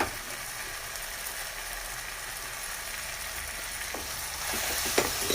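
Malai chaap fries in a pan with a spoonful of cream, a soft, steady sizzle with a few small clicks and stirring taps near the end.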